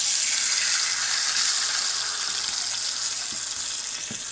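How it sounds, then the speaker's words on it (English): A steak sears in a hot pan near the end of cooking, giving a loud, steady hiss and sizzle throughout with faint crackles and no talking. "We're going to cook it for one more minute and then we're going to take it out."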